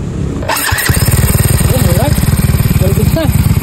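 A Yamaha Mio Soul i125 scooter is push-started and its engine fires up loudly nearby, settling into a fast, even putter while someone talks over it.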